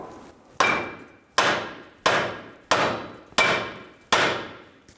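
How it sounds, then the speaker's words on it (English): Six sharp metallic hammer blows strike the steering knuckle of a 2011-2014 Hyundai Sonata at the tie rod, evenly spaced, loud and close, each ringing briefly before the next. "Using a hammer, we're going to hit on the knuckle where the tie rod is sitting in."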